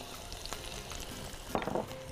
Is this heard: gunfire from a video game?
no